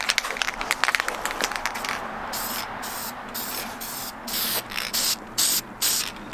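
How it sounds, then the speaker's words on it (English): Copper spray from an aerosol can hisses in several short bursts of varying length, close and loud, with brief pauses between, applied during an engine rebuild. "Copper spray, love that stuff, not sponsored."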